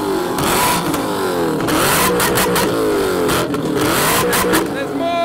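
Loud car engines rev repeatedly at a car show, including a BMW E36 and E39 M5, pitch climbing and dropping in bursts, with voices talking over the roar.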